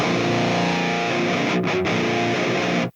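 Heavily distorted 7-string metal guitar tone from an Axe-Fx III, a dense sustained chugging riff with brief gaps near the end before cutting off abruptly, loud and alone with no talk.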